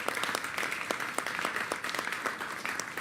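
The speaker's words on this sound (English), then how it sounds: "That's a hand clap right there as well." Hand clapping from an audience at a New York City mayoral economic development announcement, a steady patter of many claps held at an even level throughout.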